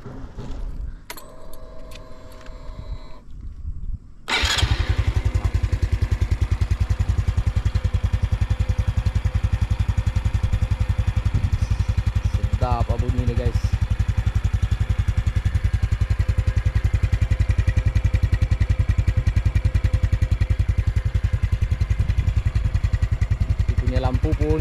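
Honda Dash 125i motorcycle, a 2023 fuel-injected model, with keys jingling before the engine starts with a sharp catch, then idles steadily and loudly up close for about twenty seconds, with brief faint chirps over it.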